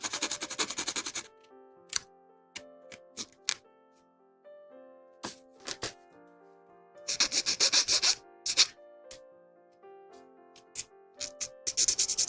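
Plastic nubs rubbed and scraped off parts of a 1/144 HG Bandai Gundam Gouf Custom model kit, giving short scattered scratchy bursts and clicks separated by pauses, with a few denser rubbing passages.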